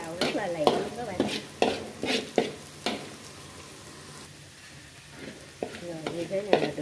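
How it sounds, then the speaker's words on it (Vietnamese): Snails and lemongrass stir-fried quickly in a hot pan, bursts of sizzling with rhythmic scraping strokes, a short quieter pause, then renewed tossing and hissing up close. "mình xào cái phần sả này nè phi thơm lên rồi mình cho ốc vào mình cũng xào rất là lẹ luôn các bạn"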